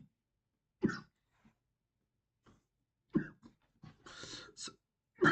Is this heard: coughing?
yes